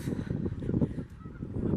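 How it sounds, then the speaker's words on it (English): A flock of Canada geese honks outdoors at a park lake, a dense run of overlapping calls at moderate distance with a light breeze. "There's the Canada geese."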